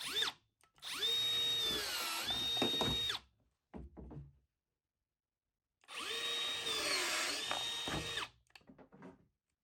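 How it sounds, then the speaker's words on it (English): A threaded rod cutter snipping ready rod, two sustained whirring power-tool runs each ending in a sharp clunk of the cut, with short clicks between, close and alone. "this tool is super easy to use. It makes cutting ready rod really easy"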